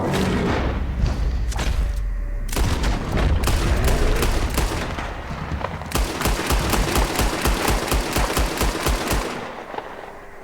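Rapid, evenly spaced gunfire from Red Dead Redemption 2 during a bear attack, loud and close, with bursts of shots and heavy thuds filling most of the stretch.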